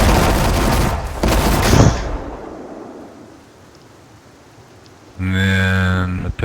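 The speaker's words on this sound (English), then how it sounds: "because that one's even more powerful than the shotgun. It's an assault rifle." Assault rifle fire in the Sons of the Forest video game, a loud, dense burst of rapid shots over the first two seconds, followed by quiet ambience and then a sustained tonal sound.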